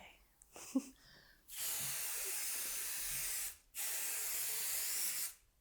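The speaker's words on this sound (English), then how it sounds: "Always spray your wadding, never your fabric, because it will mark your fabric." Spray adhesive can spraying quilt wadding, two sustained close hissing bursts of about two and one and a half seconds separated by a short pause, preceded by faint handling noises.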